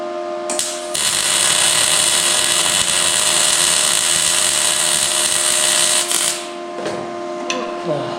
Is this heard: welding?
yes